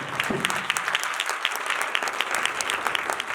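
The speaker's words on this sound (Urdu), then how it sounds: "تالیاں وہ بجا رہے ہیں جو شارپ مائنڈ ہے" Church audience clapping during a Christmas sermon, a lively burst of many hands with sharp, irregular claps that stay close and loud throughout, with no talking over it.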